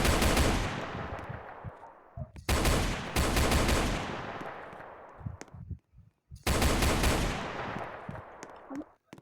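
Rapid automatic gunfire in the Roblox game Brookhaven comes in three long loud bursts, each cut off by short silent gaps and a few single shots.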